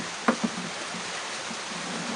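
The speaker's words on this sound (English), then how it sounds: "There's heavy, heavy rain coming now." Heavy rain pouring near a porch in Liberia, a dense steady hiss of falling water with a couple of brief close knocks early on, continuous and loud throughout.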